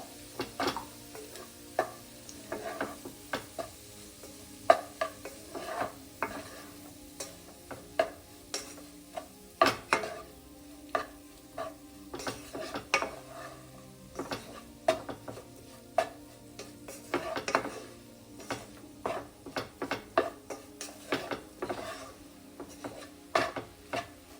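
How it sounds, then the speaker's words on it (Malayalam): Beans poriyal being stirred in a pan with roasted crushed ingredients mixed in: repeated scraping, clattering strokes of a spoon against the pan in an irregular rhythm over a faint sizzle, close and moderately loud, no voices. "ചേർത്ത് നന്നായിട്ടൊന്ന് മിക്സ് ചെയ്യാം"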